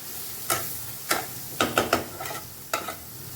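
Spice paste fries in a pan. Sharp crackles and spatters come in a few separated bursts over a low, steady background hiss, close and moderately loud.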